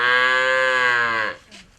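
One long, loud moo from cattle on a Fulani ranch, held steady before trailing off, followed by faint background sound.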